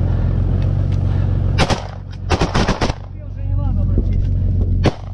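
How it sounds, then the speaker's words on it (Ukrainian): Cannon and machine gun firing during a combined arms assault on Russian trenches, sharp bursts of gunfire cracking over a constant deep vehicle engine rumble, with clustered volleys in the middle and a final shot near the end. "Пушка, пулемет, работає!"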